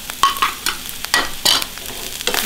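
Oyster sauce, stock powder, salt, pepper and sugar being stirred through a stir-fry filling in a pan, with a run of close, separate scraping strokes over a low sizzle and no talking.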